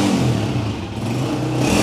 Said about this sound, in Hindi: साउंड सुने दोस्तों